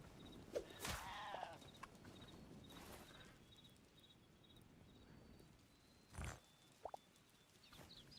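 Sheep in the video game Hytale give a couple of short bleats early, followed by quieter scattered game sounds and another brief bleat-like call later, with no talk.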